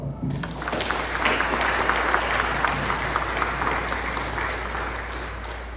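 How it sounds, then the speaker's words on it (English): Audience applause fills an eighth-grade scholar-of-the-year ceremony, a steady dense wash of many hands clapping that swells in quickly and holds at an even level to the end, with no talk over it. "So let's give you all a applause"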